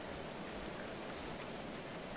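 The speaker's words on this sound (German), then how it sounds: "Ach, schön, dieser Regen. Es ist schon schön nass und läuft hier so richtig das Dach runter." Rain runs down a roof in the video game Going Medieval, a steady, even hiss of falling water with no other sounds.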